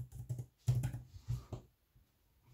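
Keys clack on an external keyboard paired with a Samsung Galaxy Tab S6, a quick cluster of close, crisp taps followed by a few softer strokes.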